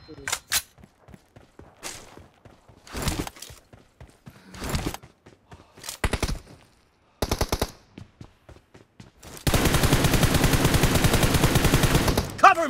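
Gunfire from a mobile shooter game team deathmatch: spaced single shots and short bursts, then a long dense machine-gun burst near the end, close and loud.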